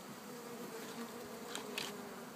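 Honey bees hum faintly around an open hive during an apiary inspection in Medfield, Massachusetts, a steady low drone with a couple of brief louder buzzes as individual bees pass close.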